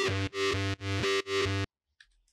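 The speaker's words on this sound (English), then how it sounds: "Just straight distortion." A synth one-shot run through straight distortion in an Ableton breakbeat production plays as four loud, harsh buzzing pulses in a steady rhythm, then cuts to near silence.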